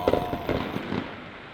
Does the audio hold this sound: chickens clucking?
no